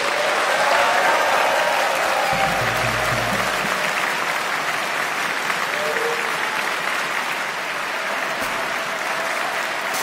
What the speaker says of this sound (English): wenn jeder doppelt so viel applaudiert, dann kommt es hin, dann klingt das nach einem Stadion